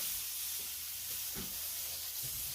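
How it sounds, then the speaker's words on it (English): Pork meatballs browning in a frying pan over turned-down heat give a steady, close hiss and sizzle with a few soft stirring bumps. "Balls are browning great."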